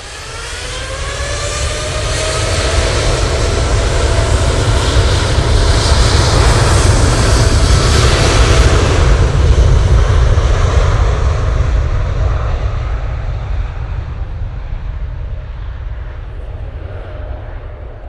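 A Boeing 787 Dreamliner jet at Manchester Airport passes close by, its loud engine roar swelling over several seconds, holding steady, then slowly fading.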